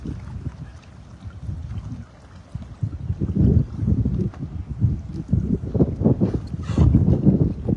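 Wind gusts buffet a fishing boat out on the water during net fishing for milkfish, a steady rushing roar with louder surges toward the end.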